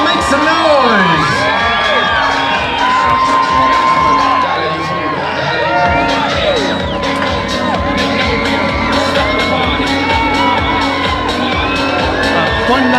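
An arena crowd at a live bull-riding event in Old Tombstone, Arizona cheers, whoops and shouts loudly and continuously, a dense wall of voices with scattered individual yells rising above it.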